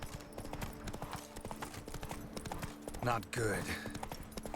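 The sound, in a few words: horse hooves galloping in the video game The Witcher 3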